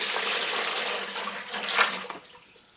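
Water pours into a thin collapsible camping bucket in a steady rushing stream that splashes briefly and then tapers off as the pour ends.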